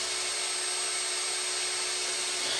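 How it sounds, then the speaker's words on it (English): A Zenbot 1624 CNC router cuts a pair of frame plates for a rubber band gun, giving a steady, loud, unbroken high whine and hiss with no pauses and no voices. "Right now the router is cutting out a pair of frame plates for a submachine gun."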